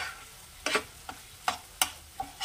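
Eggs being stirred in a pan on a low flame, giving several separate scraping strokes spaced through the moment against a soft background sizzle, with no talking.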